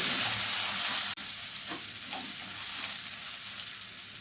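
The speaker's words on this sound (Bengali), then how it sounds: "আবারও ভালো করে নাড়াচাড়া করে কষিয়ে নেব।" Close, steady sizzle of chicken with ginger garlic paste frying in a pan, with a few scraping stirs and a brief clank near the start, no voices.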